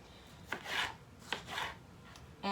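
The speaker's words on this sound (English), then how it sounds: "we're just gonna go ahead and do all of our prep work and get these all chopped up and ready to go" Knife chopping yellow pepper and other vegetables for ham, potato, egg and cheese breakfast bowls, heard as a few soft, separate cutting strokes on a board, close and fairly quiet, with a brighter knock at the end.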